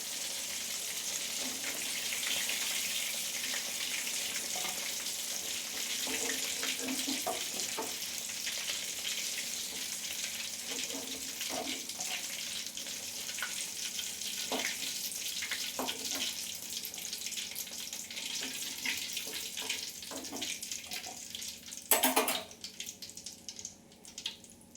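Prawns frying in a kadai over a lowered gas flame, a steady soft sizzle throughout with scattered clinks and scraping of a utensil, and a sharper clatter near the end.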